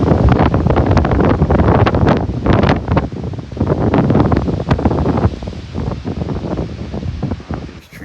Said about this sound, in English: Yeah, it's pretty windy now.